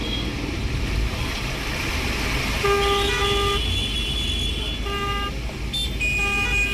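Car horns honking repeatedly in a rain-flooded traffic jam on a city road, several short and longer toots overlapping above a steady roar of engines and rain-soaked traffic.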